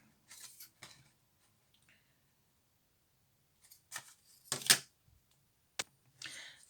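Hole punch notching a paper card, a few sharp crisp clicks and crunches scattered among quiet paper handling, close and faint.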